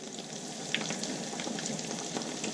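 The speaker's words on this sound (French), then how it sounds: "Il faut vraiment le cuire jusqu'à ce qu'il est bien doré." Pea-stuffed kachori deep-frying until golden, a steady close sizzle and bubbling of hot oil throughout with no talking.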